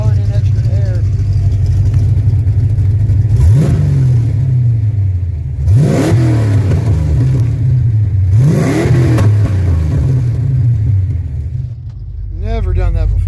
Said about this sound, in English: Those mufflers backfired like that, even with the old H-pipe.